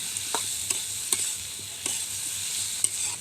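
Chili powder and salt masala being stirred in a frying pan, with a steady sizzle and a handful of distinct scraping strokes of the spoon against the pan at irregular intervals.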